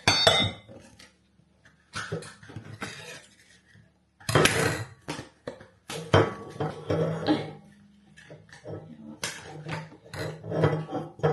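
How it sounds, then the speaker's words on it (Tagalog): Metal forks and spoons clink and clatter in bursts as new cutlery is handled at home in the UK, the sharp rattles coming close and fairly loud between quiet gaps. "Tinidor at kutsara."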